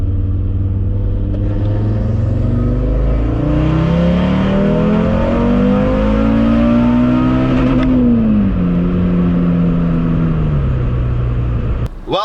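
A tuned Audi RS3 accelerates hard on the road at night, its loud engine note climbing steadily through a long pull, easing off, then building again under a constant rumble.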